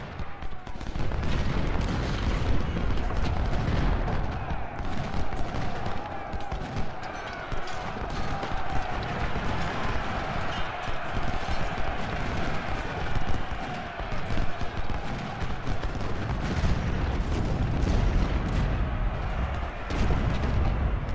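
Close-range musket volleys in the Civil War strategy game Ultimate General: Civil War, heard as a dense, continuous crackle of gunfire with rumbling battle din and a clattering, hoof-like texture that stays steady throughout.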